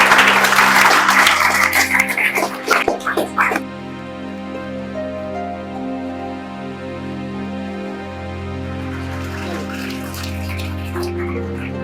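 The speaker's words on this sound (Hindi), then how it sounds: "ताली बजाओ प्यारे बच्चों।" Children in a mathematics coaching class burst into loud, dense clapping that lasts a few seconds before stopping abruptly, leaving only a low steady room hum.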